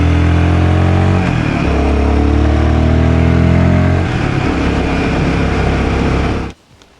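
Royal Enfield Guerrilla 450 motorcycle engine running loud and close, its revs climbing and falling in strong harmonic sweeps for about six seconds before cutting off abruptly into near silence.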